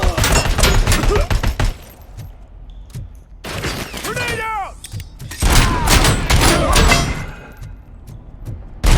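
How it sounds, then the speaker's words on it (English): Rapid gunfire and metallic clangs crack in dense bursts during a Robocop Rogue City firefight, with a grenade blast among them, loud and close, with short pauses between volleys. "Grenade out!"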